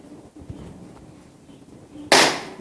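A toy gun fires a single sharp, loud bang near the end, following a stretch of quiet background noise.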